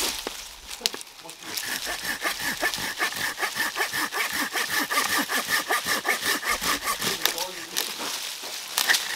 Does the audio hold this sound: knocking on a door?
no